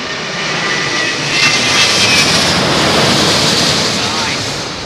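An Airbus A330neo jet roars loudly and steadily at London Heathrow in high winds, a broad rushing engine noise mixed with heavy wind buffeting on the microphone.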